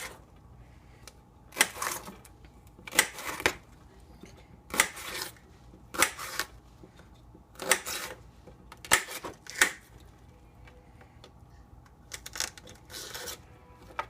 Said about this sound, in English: let's get this pepper cut up.